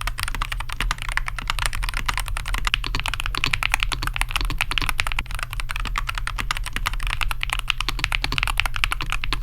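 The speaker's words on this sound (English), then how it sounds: "this keyboard, even though it's halleffect, sounds great. Just listen to it." Rapid, continuous typing on a Nuphy Halo65 HE hall-effect keyboard with lubed stabilizers and magnetic coral switches, a dense stream of crisp, even keystrokes heard up close with no talking.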